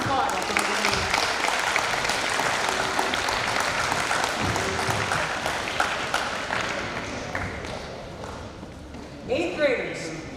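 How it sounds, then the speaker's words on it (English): An awards ceremony audience claps after names are read, a sustained patter of applause that thins toward the end, with a voice speaking over it. "You can applaud after the name."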